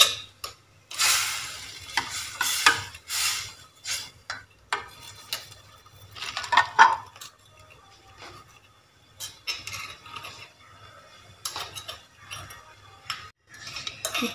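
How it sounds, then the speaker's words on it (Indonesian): Jengkol being added to coconut milk curry for a Minang gulai with cassava leaves, stirred in a metal pot: intermittent scraping, clinking and stirring clatter, close and moderately loud, with no one talking. "Dah masukkan santan, kita masukkan jengkol."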